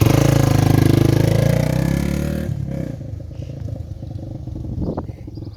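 A Honda XL250 motorcycle, a restored barn find, idles loudly with a fast even throb, then drops away after a few seconds to a quieter, lumpier running note with a brief clatter near the end.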